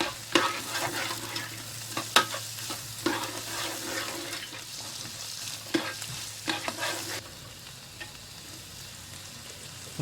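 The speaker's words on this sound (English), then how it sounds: "And with the onions you can also add the capsicum. Give that a good mix." Onions and capsicum sizzle as they are stirred in a JML multi cooker while a lamb curry is being made, with steady frying hiss and scraping strokes that come and go, fairly close and with no talking.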